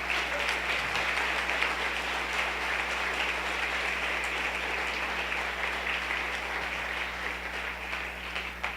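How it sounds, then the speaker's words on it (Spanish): A church congregation applauds during a Sunday service, a steady, sustained round of clapping from many hands that fills the room for about nine seconds without letup. "Denle un aplauso a nuestro Rey, por favor."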